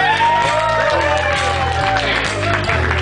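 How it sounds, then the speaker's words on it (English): At a live concert in London, an audience claps, cheers and whoops loudly while the music keeps sounding underneath. "Give yourself a round of applause."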